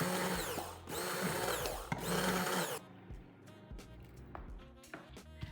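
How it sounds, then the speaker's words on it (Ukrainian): A blender whirs loudly in two bursts through a batter of curd cheese and starch, stopping briefly between them, then cuts off, leaving quieter clattering and handling sounds. "І блендером все це переб'ю."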